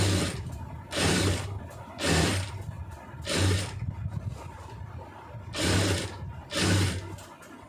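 A sewing machine stitches a round neckline at a quarter-inch seam in five or so short whirring bursts with brief pauses between, close and alone.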